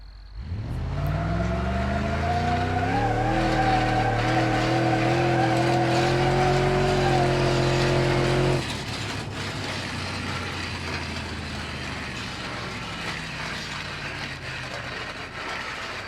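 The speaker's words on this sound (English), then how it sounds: "Now you got an actual scraping noise from the car" Simulated car in BeamNG.drive driving with a tire removed, a loud steady engine tone climbing through gears, then abruptly giving way to a harsh continuous grinding scrape of metal on the road.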